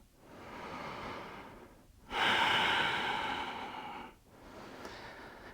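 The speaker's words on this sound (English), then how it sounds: "You're gonna be breathing here." Slow, heavy breathing by a person holding a hamstring bridge exercise: a long exhale, a stronger breath in the middle, then another breath, close and steady with no speech.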